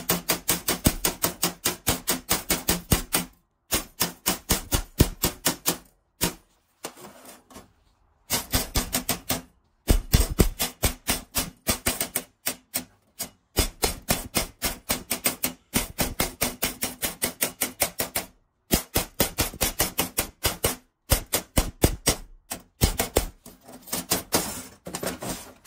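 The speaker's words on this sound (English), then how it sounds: "Let's get the slag off." A chipping hammer knocks slag off a fresh stick weld on steel in rapid bursts of sharp metallic taps, each burst separated by short pauses, close and alone with no talk.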